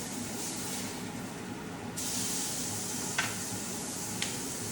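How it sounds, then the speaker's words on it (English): A burger patty sizzles on a hot griddle with a steady bright hiss, which swells as the patty is flipped, followed by a couple of brief scraping clicks from the spatula. "if it's been 3 to 4 minutes and you kind of peek underneath it looks done, let's flip it"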